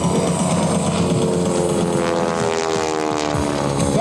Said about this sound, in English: that sound is not just the sound of the motor, it is in fact the sound of the propeller tips going supersonic